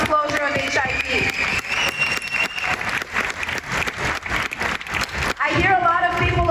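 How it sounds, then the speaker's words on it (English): Crowd applause at a protest rally, sustained clapping mixed with cheering voices, with a louder vocal outburst near the end. "I hear a lot of people applauding right now"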